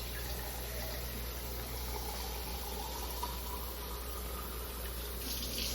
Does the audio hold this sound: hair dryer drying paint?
no